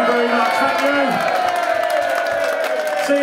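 An audience at a Kunt & The Gang comedy gig at the Pipeline cheers, whoops and applauds loudly, a dense, sustained wall of crowd noise with shouts rising above it.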